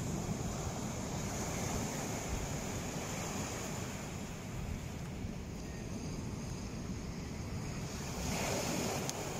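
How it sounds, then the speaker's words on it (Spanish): Ocean waves and surf roll in steadily at Greystones, a continuous broad wash of breaking water mixed with gusting wind buffeting the microphone, loud and close throughout with no talk. "aquí ya está el oleaje"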